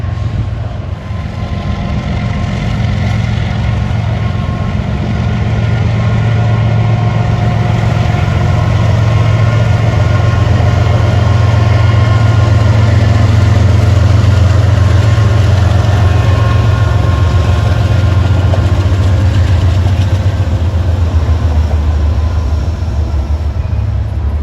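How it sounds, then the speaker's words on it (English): A westbound empty hopper freight train approaches Alto interlocking on the Norfolk Southern Pittsburgh Line in autumn, a loud, continuous, heavy rumble with a droning engine note that holds steady throughout, with no talk. "we have a westbound empty hopper train approaching Alto interlocking"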